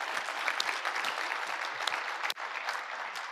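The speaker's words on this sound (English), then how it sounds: "let's give a round of applause for SEPC and putting this together" Audience applause at an indoor educational conference session, a sustained dense clapping from a moderate-sized crowd, fairly even throughout with one brief dip before resuming.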